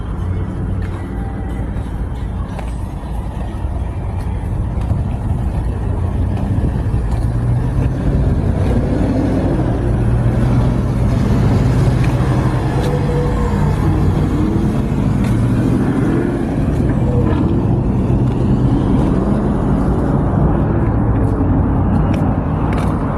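A hot rod with a 5-speed manual gearbox driving along, its engine droning steadily up close with low rumble and road noise throughout, level and continuous with no talk.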